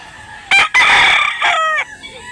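Bullstag rooster crowing at a chicken market in Mantalungon, Barili, Cebu, with two loud, close crows in quick succession, the second long and drawn out, followed by quieter background chatter.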